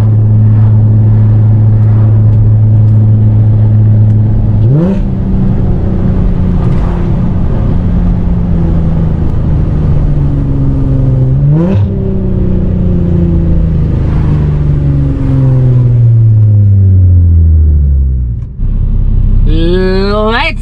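A 2006 Infiniti G35 coupe's engine revs repeatedly while driving, its pitch climbing and dropping through several gear changes, loud and close throughout, with a brief burst of higher sounds near the end.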